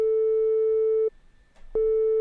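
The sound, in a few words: synthesizer sine wave tone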